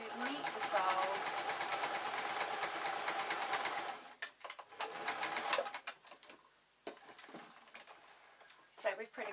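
Close-up sewing machine sewing a fleece bootie down onto its sole, a fast rattling run of stitches for several seconds, then stops and short stuttering bursts as it slows, with a voice speaking over part of it.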